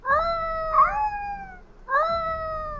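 A cat meows three times in a dim warehouse, each call a clear rising-then-falling tonal cry of about a second, close and fairly loud, with short pauses between and no talking.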